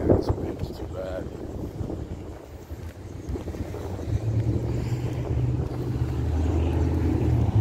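Strong wind buffets an outdoor microphone on a city sidewalk, a steady low rumble that builds louder toward the end while someone talks over it.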